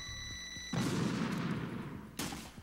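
Gunfire in the stealth action game Metal Gear Solid 2 erupts as a sudden loud burst of rapid shots with a second sharp blast near the end, close and with no talk over it.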